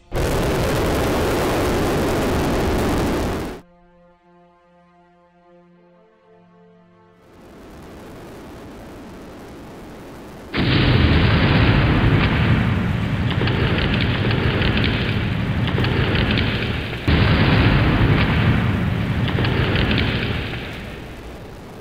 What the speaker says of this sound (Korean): 신형 로켓이 1단 비행 중 공중에서 폭발했고